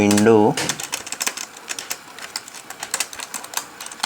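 Brief speech, then quick, irregular clicking of keys on a computer keyboard, close and crisp, as text is typed into Python code.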